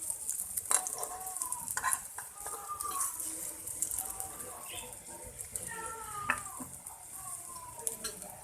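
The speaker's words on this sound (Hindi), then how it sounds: "मैं इसे अभी और फ्राई कर देती हूँ थोड़ी देर।" French toast fries in a pan over low heat with a soft, steady sizzle and occasional clinks. Someone talks quietly over it.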